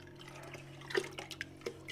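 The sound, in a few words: container being filled with water for pottery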